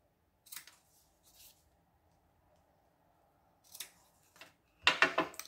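Small scissors cutting lace for a recycled-material card, a few quiet, separate snips with pauses between them, ending in a louder cluster of close crisp cuts.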